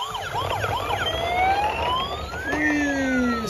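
Toy fire truck siren wailing in repeated rising and falling sweeps, loud and close, with no talking over it.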